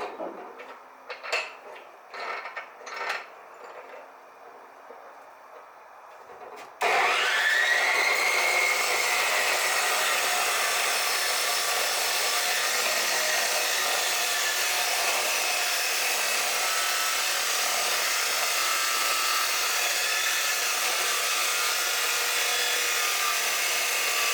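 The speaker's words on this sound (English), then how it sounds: "We get to use our new chop saw today." After a few faint knocks, a powerful chop saw whines up abruptly and grinds through metal brackets, loud and continuous, a harsh sustained cutting roar close by.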